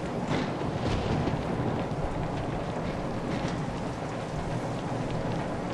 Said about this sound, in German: hier im strömenden Regen